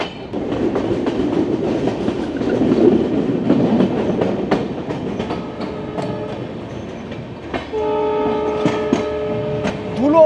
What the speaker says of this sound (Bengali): ডাব্লিউডিএম এর সাউন্ডটাই আলাদা